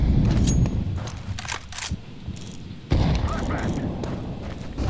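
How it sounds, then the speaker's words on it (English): A flashbang grenade thrown in Counter-Strike 2 goes off amid dense in-game gunfire and bursts, with a sharp loud onset near the middle, and a player talks over it. "I'm throwing a flashbang."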